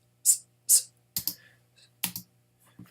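Voice beatboxing hi-hat sounds with hissed S's, a few short sharp sibilant bursts followed by clicks and breaths, close and quiet; the mouth imitates cymbals.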